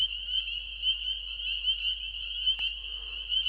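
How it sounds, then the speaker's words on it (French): Frogs croaking right beside a listener at a wild forest lake at night, a loud, continuous high-pitched trill that rises and falls slightly, with one brief knock partway through and no voices. "j'ai des grenouilles qui sont juste à côté, ça défonce les tympans."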